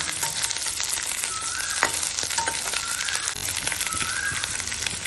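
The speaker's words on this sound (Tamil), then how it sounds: "அந்த எண்ணெயிலே கொஞ்சம் அந்த முருங்கைக்காய் கொஞ்சம் வதங்குற மாதிரி ஒரு ரெண்டு நிமிஷம் வதக்கிடலாம்" Drumstick pieces and onion sauté in hot oil for a kootu, a continuous sizzle with scraping stirs and a few light clinks of the spatula against the pan.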